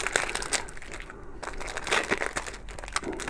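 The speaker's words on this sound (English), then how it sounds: "I'm just going to have to pierce this packet so I can get into it" A plastic phone-case packet is pierced and torn open with keys, giving a continuous busy crinkling and crunching of plastic, close and fairly loud, with no talk.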